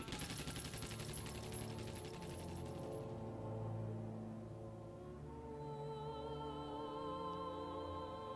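Rapid machine gun fire crackles in the Company of Heroes video game during the Normandy invasion at Carentan, a dense rattling burst that thins out after a few seconds into quieter tonal battle ambience.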